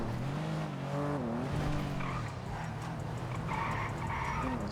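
Tires squeal and a car skids in a video game, wavering screeches over a steady engine drone, moderately loud and continuous for several seconds.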